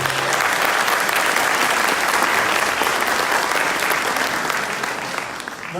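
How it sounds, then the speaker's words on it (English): Sustained applause from a full-house audience at a theater-style lecture on shroud science in Orange, California, loud and dense throughout and tapering slightly at the end. "How about a round of applause for everybody?"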